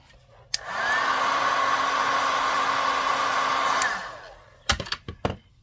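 A heat tool melts embossing powder on cardstock with a steady, close, loud blowing whir for about three seconds, then winds down. A few sharp clicks and taps follow.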